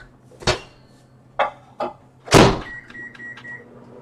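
Microwave oven used to set dye on a rolled bundle of yarn: several door clunks and button presses, then a steady hum broken by three short beeps, fairly close and alone.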